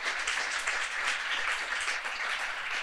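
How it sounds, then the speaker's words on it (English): Audience applause at a student panel on finances, a steady dense wash of many hands clapping throughout, fairly loud and continuous, with no speech over it. "give them a big round of applause"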